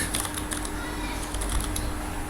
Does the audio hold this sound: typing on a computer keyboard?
yes